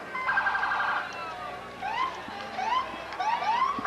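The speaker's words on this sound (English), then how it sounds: "you hear the sirens" Police sirens wail from a distance at a St. Patrick's Day parade in Holyoke, with rising and falling tones overlapping and sweeping repeatedly, moderately loud.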